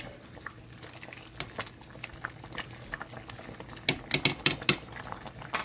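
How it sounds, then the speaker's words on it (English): Egg being stirred into a simmering chicken meatball soup, soft bubbling with spoon clinks against the pot that grow louder toward the end, close and without speech. "Stir again. Mix the egg in there."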